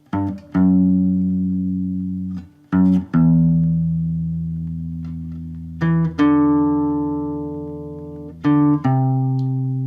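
Low bass notes plucked on guitar ring out one after another, each sustained and slowly decaying before the next pick, a bit over half a dozen in all.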